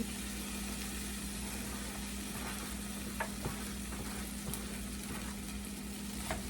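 Carrots and potatoes frying in bacon grease in a pot, a soft steady sizzle with a low hum underneath and a few faint clicks of stirring, quiet and without talk.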